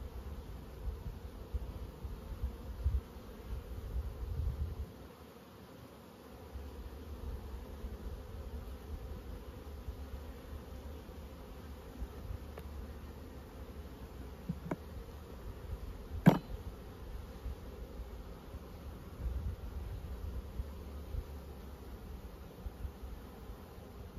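Honeybees hum steadily at low volume around an open hive during an inspection where brood frames are being checked, a continuous soft drone with a few brief sharper buzzes passing close.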